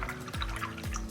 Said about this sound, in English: So I'm cleaning my brush really, really good.